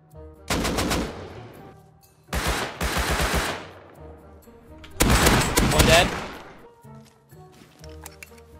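Automated turrets in Rust open fire in three long bursts of rapid shots separated by short pauses, loud and close, with gaps of quieter background between volleys.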